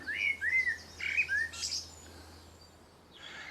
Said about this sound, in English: I've been sitting listening to this blackbird for the last 5 minutes.